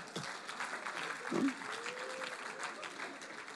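A church congregation applauding, a steady wash of clapping from a crowd with a speaking voice over it and a brief louder swell in the middle.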